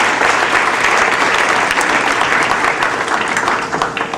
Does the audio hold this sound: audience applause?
yes